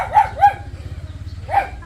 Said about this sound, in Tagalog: Maingay yung aso pagka may tao, kumakahol.